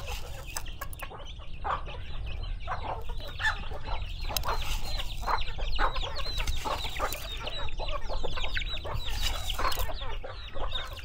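Hens cluck continuously around a nest with a rooster among them, a busy overlapping chorus of close clucks and squawks over low farmyard rumble, with no talking.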